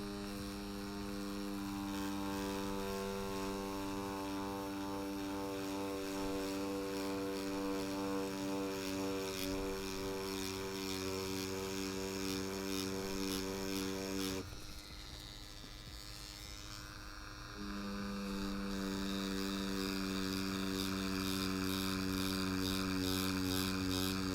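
An Inkclaw tiny pen tattoo machine packs black ink at about 6.5 volts. It gives a steady, close, high-pitched electric buzz that runs unbroken, thins out briefly for a few seconds, then resumes at full strength.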